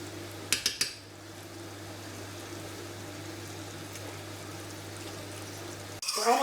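Vegan Efo Elegusi cooking in a pot, with a few sharp clinks of a utensil against the pot at the start, followed by a low, steady simmering hiss and a clatter at the end.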